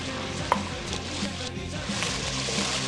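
Onions and garlic frying over low heat in a pan give a steady soft sizzle and crackle throughout, with a faint utensil clink near the start.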